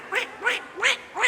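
A human voice imitates a duck, giving four evenly spaced nasal quacks in quick succession, close and clear against a quiet background with no other talk.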